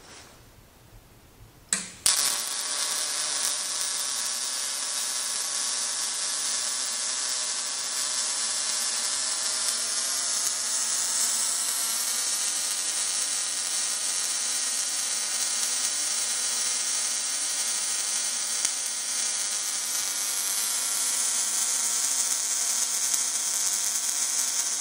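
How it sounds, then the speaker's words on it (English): A Millermatic 142 MIG welder running on 110 volts lays a short arc on 1/8 inch material, starting with a sharp crackle after a quiet moment, then a loud, steady buzzing hiss that holds for over twenty seconds. "very crisp short arc for, and we're only on 110"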